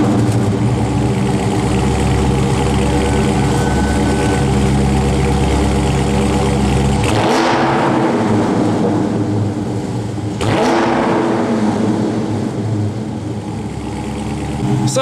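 A 2016 Dodge Charger Scat Pack with its 6.4 liter V8 rumbles loudly at a deep idle, then blips the throttle in two sharp revs near the middle and again later, settling back to a steady, close burble with no talking.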